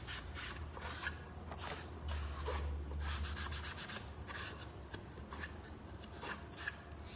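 A cloth rubbing excess stain and glaze off a wooden jewellery box, a soft continuous scrubbing rasp in quick strokes close up, faint and without talk.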